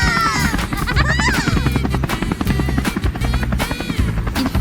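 A cartoon aircraft flies in with a helicopter-like engine, a fast choppy rotor pulse steadily throbbing under bright, swooping cartoon tones and music.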